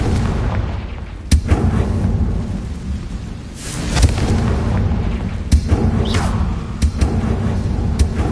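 Confringo fire spell blasts in Hogwarts Legacy, a series of sharp booming explosions at irregular intervals over a dense rumbling backdrop, loud and close with no talking.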